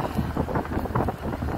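A motorized boat engine passes off a Boracay beach, a steady rushing drone partly masked by wind buffeting the microphone.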